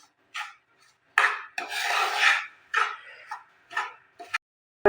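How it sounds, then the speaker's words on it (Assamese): Sieved masoor dal roasts in ghee in a pan, heard as a series of rough scraping strokes of a spatula against the pan, close and dry, separated by brief silences. "ল' ফ্লেমত ভালদৰে ভাজি ল'ম।"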